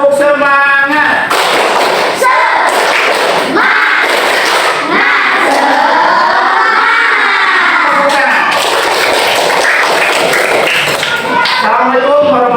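Classroom of schoolchildren doing the tepuk semangat clapping chant at a morning school assembly, a loud group of young voices chanting and shouting together with rhythmic hand claps throughout.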